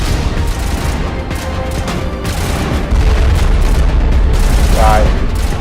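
Rapid rifle fire in the Mass Effect: Legendary Edition video game, loud dense bursts of shots and booms over a constant roar of combat, with a player talking over it.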